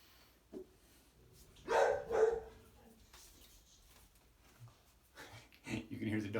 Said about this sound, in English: hear the dogs